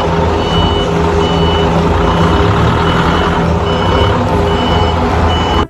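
Red toy forklift emits a loud, steady series of reversing beeps, repeating evenly over a constant electronic hum with no talk.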